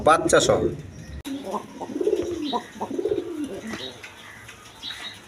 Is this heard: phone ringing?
no